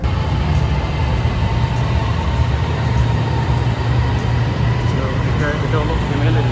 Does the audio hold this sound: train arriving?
yes